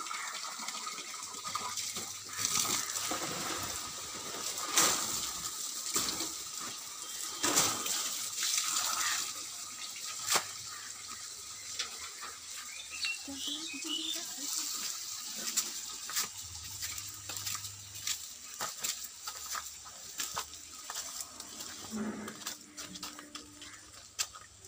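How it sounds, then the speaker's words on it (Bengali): Water runs steadily into a container until it fills to the top, a continuous faint gushing and trickling that lasts throughout. "জল ভরে গেছে একদম উপরে।"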